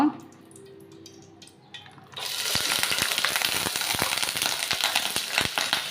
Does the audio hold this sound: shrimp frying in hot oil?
yes